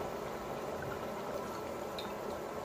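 Fish frying in oil on a low flame, a steady soft bubbling and crackling hiss that stays even and fairly quiet throughout, with no voices.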